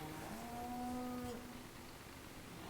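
In a cow shed in Farming Simulator 17, a cow lets out one long, low moo over a steady hiss of background noise, moderately close, with faint farm ambience afterward.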